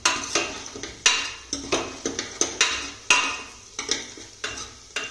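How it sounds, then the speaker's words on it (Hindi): A whole red chili goes into a pan of frying garlic and ginger for dal bathua, with rhythmic, sharp spoon scrapes and clacks against the pan repeating about twice a second over a soft sizzle, close and with no talking. "लहसुन अदरक भी भून चुका है तो इसमें मैं एक साबुत लाल मिर्च डाल रही हूँ।"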